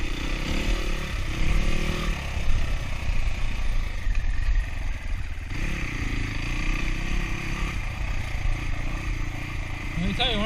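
An SSR 300 S motorcycle lugs its engine at low revs on a trail ride, a rough, loping rumble that stays close and continuous, with a rider's voice heard over it.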